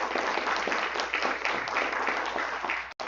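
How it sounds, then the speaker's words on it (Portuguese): Church audience applause rises as a continuous, dense patter of many hands clapping at a moderate level, holding steady before a brief dropout near the end. "aplauda o nome do Senhor Jesus"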